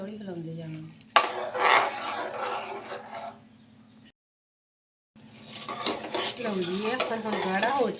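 Bread and milk sweet being stirred in a pan over low gas, with a spoon scraping and clinking against the pan in steady strokes, close and fairly loud, and a short silent gap midway.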